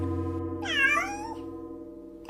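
A cat gives one clear, drawn-out meow over a steady low hum, followed by the start of a second call right at the end, close and fairly loud.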